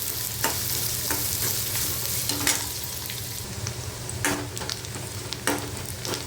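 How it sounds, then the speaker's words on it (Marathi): Chopped onion frying in hot oil, a continuous close sizzle with occasional sharper scrapes and clicks from stirring, steady and without talk. "तेल गरम झालं की याच्यामध्ये कांदा घालायचा कांदा आपल्याला व्यवस्थित परतून घ्यायचा आहे"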